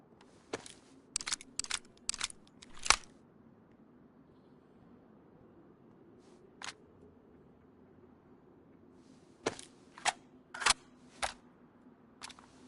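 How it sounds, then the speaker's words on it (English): Rifle rounds click one by one into a magazine in the video game DayZ, sharp isolated clicks in two quick bursts separated by a quiet pause, close and crisp over a faint background hum. "get a few rounds in the mag"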